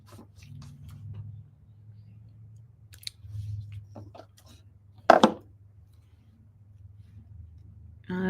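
Scissors cut a sharp triangle shape from craft material for a patriotic shadowbox, giving a few sparse, quiet snips and one louder crisp cut near the end, close by with a low hum underneath.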